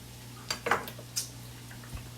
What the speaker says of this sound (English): we're just going to kind of stir it up, move it around